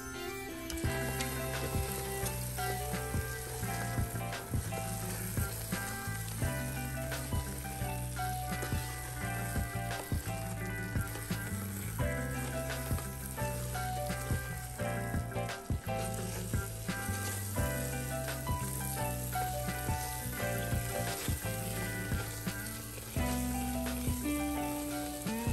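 Chana dal frying with raisins in a pan for halwa, a continuous soft sizzle under steady background music, with no talking.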